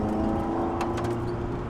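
A Ferrari 308 Group 4 rally car engine idles with a smooth, moderate hum, fairly quiet and even, with a few brief higher bursts partway through.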